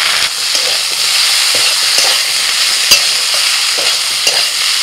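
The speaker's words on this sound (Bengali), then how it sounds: "এবার দিয়ে দিচ্ছি আদা রসুন বাটা, টমেটো কুচি, লাল লঙ্কার গুঁড়ো, ধনে গুঁড়ো আর দিচ্ছি জিরে গুঁড়ো।" Vegetables sizzle loudly in hot oil, stirred together with ginger-garlic paste, chopped tomato, red chilli, coriander and cumin powders: a dense, continuous close frying hiss with faint utensil scrapes and no talking.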